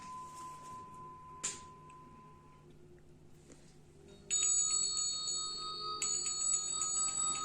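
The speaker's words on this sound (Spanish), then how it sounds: "Pavlov utilizó para su experimento un perro, comida y una campana. Antes de condicionar, hacer sonar una campana" A single bell for a Pavlov conditioning experiment with a dog, food and a bell, heard as sustained bright bell tones that enter midway and hold steady, restruck once near the end over a quiet background.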